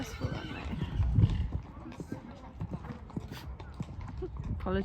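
A horse whinnies in a car park at a showjumping lesson, with hoof clip-clop and scuffling close by under ongoing talk.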